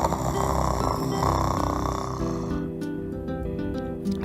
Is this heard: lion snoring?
yes